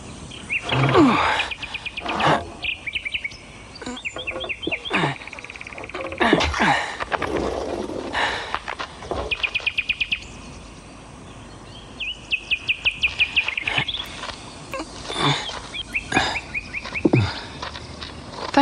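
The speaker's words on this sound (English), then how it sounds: "Thank you, Bird. It's very kind of you to come and sing to me." A bird in an animated film sings in repeated quick trilled phrases, separated by other noises and rustling, fairly close and clear.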